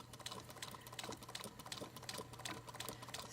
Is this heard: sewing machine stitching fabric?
yes